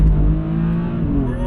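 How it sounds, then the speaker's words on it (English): A tuned BMW F80 M3 accelerates under load, heard as a loud, close engine drone whose pitch climbs steadily as the revs build over a second and a half. "F80 M3 tuned."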